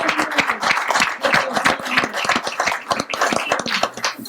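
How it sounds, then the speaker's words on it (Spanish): An audience bursts into dense, sustained applause at a political gathering in Constanza, with many hands clapping loudly and continuously, and no talk over it. "Para Rudy me gustaría otro aplauso."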